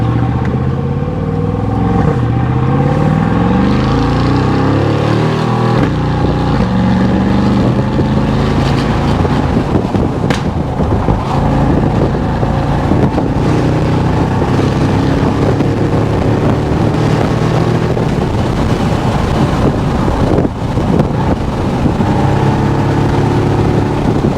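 A Mercedes-AMG G63 fitted with a Capristo exhaust accelerates under open throttle on a road, its loud, continuous engine roar rising with wind rush throughout, heard close from inside the car with no talking.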